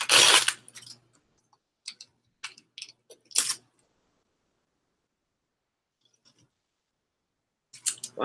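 Scissors cut paper in a few sharp, close snips and clicks, separated by quiet pauses, with no talk.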